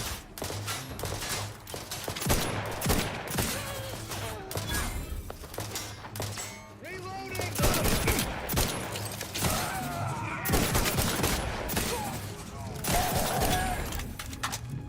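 Gunfire from enemy soldiers and the player in a firefight in the video game The Outer Worlds 2, dense bursts and rapid shots continuing throughout with some speech mixed in.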